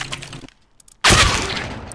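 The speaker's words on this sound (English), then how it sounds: "if you wanna mag dump the deagle, bind it to your scroll wheel because it fires really fast" Rapid Desert Eagle pistol fire in a video game: a sudden loud, dense burst after a near-silent pause, continuing as a sustained crackling volley.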